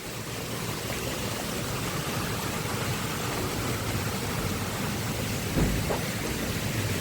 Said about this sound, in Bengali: খুব জোরে বৃষ্টি এসছে ভাই, ভীষণ জোরে বৃষ্টি হচ্ছে